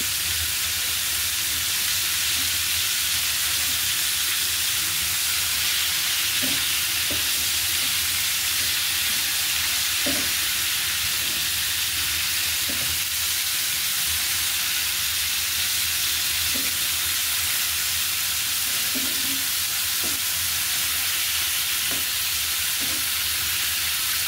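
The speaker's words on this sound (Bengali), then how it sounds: "ফুলকপি কিন্তু আমার ভাজা হয়ে গিয়েছে" Cauliflower florets fry in oil seasoned with turmeric powder and salt, a steady close sizzle running the whole time with occasional soft clinks and stirring taps, no voices.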